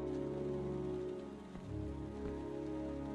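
Steady, dense rain falls on surfaces in the video game Heavy Rain, a continuous loud wash with a low hum beneath and no voices.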